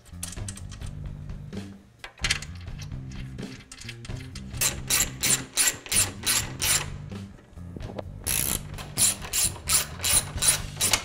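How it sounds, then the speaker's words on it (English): A hand ratchet tightens two 13mm bolts on the upper radiator support of a 2011-2016 Ford 6.7L Powerstroke, a close series of rapid clicking bursts in uneven strokes with short pauses between them. "we're going to go ahead and reinstall the two 13mm bolts"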